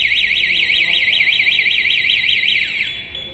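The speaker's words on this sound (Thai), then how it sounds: "มีคนมาสัมผัสหนึ่งครั้ง รถจะเตือนก่อนนะครับ" A loud electronic siren from a Honda Zoomer scooter's anti-theft alarm warbles rapidly up and down in a continuous looping wail, close by, then sweeps downward and fades near the end.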